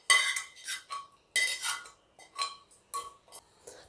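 Pineapple kesari being mixed in a pan with cardamom powder, a run of close, bright metal clinks and scrapes from a spoon against the pot, coming in short bursts separated by brief silences.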